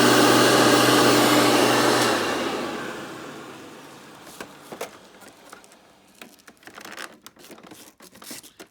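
A Hoover Dimension Limited U5215-930 upright vacuum cleaner runs with a loud, steady motor whine close by, then winds down and fades over a few seconds, leaving small clicks and handling noises.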